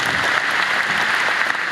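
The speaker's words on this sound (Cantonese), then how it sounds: "可唔可以俾啲掌聲佢？" Loud, sustained crowd applause at the 2015 Ultimate Song Chart Awards ceremony in Hong Kong, given for producer Eric Chan; many hands clap in a dense, even roar that fills the hall with no speech on top.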